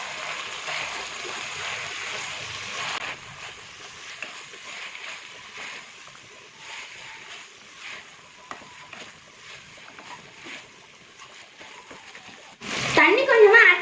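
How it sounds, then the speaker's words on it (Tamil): Water splashes into mutton uppu kari in a pressure cooker, a short, louder pour at the very end after a steady background hiss. "தண்ணி கொஞ்சமா ஆட் பண்ணிக்கலாம்."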